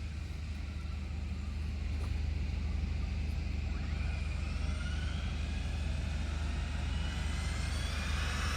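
A 1/5 scale electric Losi DBXL-E 2.0 RC car runs at full throttle on a slippery road, its steady whine rising in pitch over a constant low rumble for about eight seconds, with no voices.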